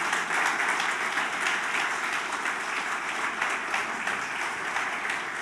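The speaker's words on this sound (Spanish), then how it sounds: "¿Por qué no le das tu mejor aplauso al Señor en esta mañana?" A congregation at a morning church service applauds, producing continuous, even clapping from many hands that stays at a steady level throughout, with no voices rising above it.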